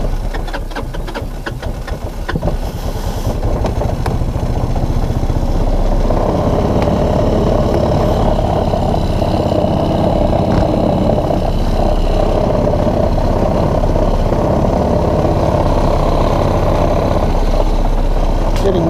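The engine of a Linhai Big Horn 400 UTV runs poorly with no throttle response, holding a steady, loud, rough drone close by for the whole stretch, with someone talking over it at the start.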